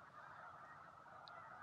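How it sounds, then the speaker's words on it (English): Snow geese call from a field full of birds during migration, a dense, steady chorus of honking that sounds distant and fairly faint, with no talking. "The field is really, really full of birds, and there have been many, many birds flying over."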